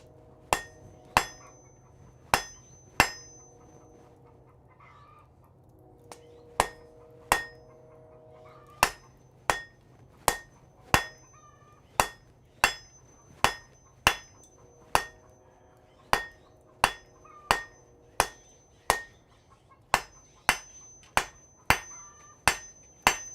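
Blacksmith's hammer striking hot steel while forging a reverse taper in a smithy, a long run of sharp ringing metallic blows in steady rhythm with short pauses, loud and close with a faint background hum.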